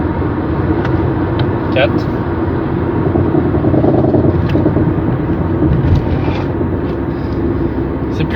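A new car slows down on a road, its engine and road noise holding a loud, steady rumble as someone talks over it.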